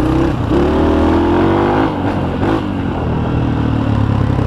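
A Honda XR80 dirt bike runs continuously nearby, its engine droning loud and steady with a slight rise in pitch under throttle, then settling at an even rumble.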